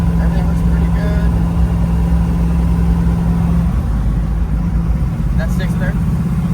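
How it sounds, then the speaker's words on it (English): A 572 cubic-inch big-block Chevrolet engine in a Camaro idles with a deep steady rumble and a low droning tone, loud and continuous beneath someone talking. "So this motor's so big that you can cruise at 1900 RPM and it doesn't load."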